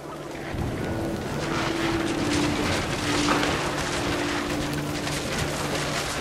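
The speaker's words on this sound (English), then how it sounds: "Rain came down in buckets then," Heavy rain and thunder in the video game What Remains of Edith Finch, a steady loud wash of downpour noise with wind-like roar and a deep low rumble throughout, no talking.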